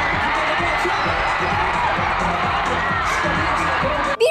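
Fans screaming at a K-pop concert, a huge crowd producing a loud continuous roar of high-pitched shrieks and cheers that holds steady throughout, with rhythmic low thumps underneath.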